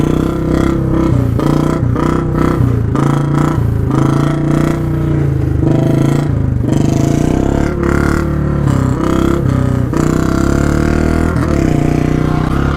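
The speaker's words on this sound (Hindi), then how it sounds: "तो भाई बुलेट पे एक और व्हीली मार के दिखाते हैं आपको" A Royal Enfield Bullet motorcycle roars loudly through a wheelie, its engine droning steadily and close throughout with a few shifts in pitch.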